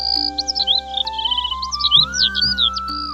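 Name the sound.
birds chirping near a forest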